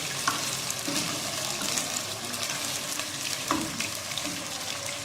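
Chicken sizzles and fries steadily in a pan while being cooked for biryani, with crackling pops and occasional stirring scrapes throughout; no talking.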